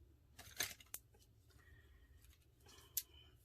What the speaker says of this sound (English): I'm just going to kind of cut it haphazard so it doesn't look like a straight line